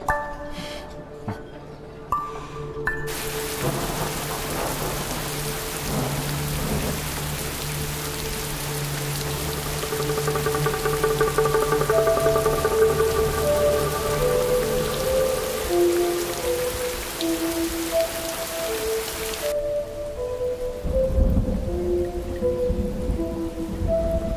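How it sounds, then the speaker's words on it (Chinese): A steady downpour patters on surfaces throughout, with low thunder rumbling underneath and tonal music-like layers rising over the rain in the middle. "带上伞吧，要下雨了。"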